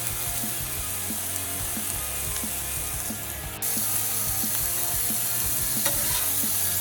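Food sizzles steadily on a Blackstone griddle set to low heat, a constant frying hiss with scattered scraping and clicking spatula taps, close and even, no talking.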